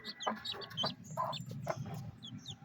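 Seven newly hatched chicks make a run of high, thin peeps, several overlapping in quick irregular bursts, close and fairly soft, with no talk.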